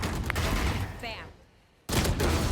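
Gunfire in the Valorant video game during a professional esports match, with bursts of rapid shots and impacts, a brief lull, then another loud burst, mixed with game effects and faint commentary.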